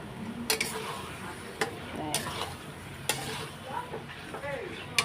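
Yogurt-marinated mutton is sautéed in a pan for a Bengali mutton kosha, with soft sizzling under scattered sharp clinks and scrapes of a spoon stirring against the pot, fairly quiet and close.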